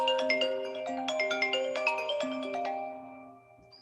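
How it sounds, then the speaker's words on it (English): A phone's melodic ringtone in an audio play plays a quick run of bright chiming notes, loud and close, then fades out at the end. "her phone rings."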